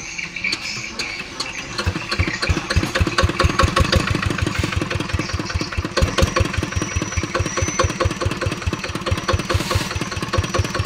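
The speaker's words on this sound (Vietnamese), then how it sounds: "Còn máy là nó tự chạy." A Zanma SS 70 motorcycle engine, original stock, idles alone and close, a steady rapid chugging beat that holds even and loud throughout.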